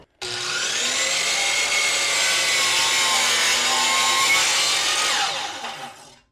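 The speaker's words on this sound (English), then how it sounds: "We'll line up our board with our saw blade right where we made our mark." A power saw cuts through a wooden board against a clamped stop block, giving one steady, loud, high whine for about five seconds before the blade spins down and fades.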